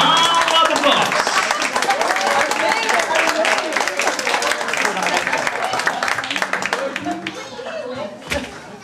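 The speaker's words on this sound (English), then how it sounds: "How about a round of applause?" Applause from a crowd at a teachers' school program, with sharp individual claps and murmuring voices mixed in, loud at first and thinning out toward the end.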